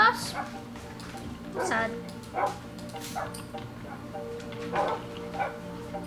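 Dogs give a few short yips and barks with a whimpering tone, scattered through the stretch and fairly close, over a low background hum while people talk throughout.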